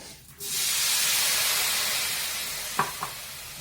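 Spiced masala sizzles and hisses steadily in hot tempering oil in a pan while leftover chapati pieces are being cooked, a loud continuous fry with a couple of brief sharper crackles near the end.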